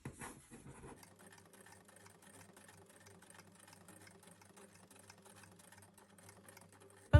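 A sewing machine stitches the legs of a soft toy bunny, running as a steady fast mechanical whir at low level after a brief rustle at the start, with no speech.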